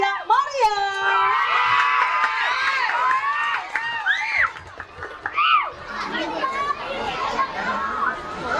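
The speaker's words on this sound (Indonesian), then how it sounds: "Berikan tepuk tangan yang meriah." A pageant audience at a grand final shouts, whoops and cheers for the finalists in loud, overlapping bursts, with excited voices rising and falling throughout.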